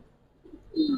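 A Giribaz pigeon of the jabra pankhi type gives soft murmurs, then one close, fairly loud, low coo near the end in an otherwise quiet setting.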